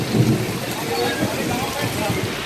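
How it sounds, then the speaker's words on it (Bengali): A thunderstorm with heavy rain over Baharampur and nearby areas in Murshidabad: a steady, dense hiss of rainfall fills the air throughout, with a low rumbling undertone. "বজ্রবিদ্যুৎ সহ ঝড় বৃষ্টি বহরমপুর ও সংলগ্ন এলাকায়"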